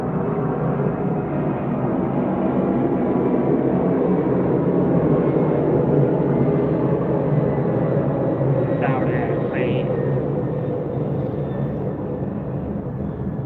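Loud airplane flying overhead as a steady broadband roar filling the whole clip, with brief voice-like sounds near the end.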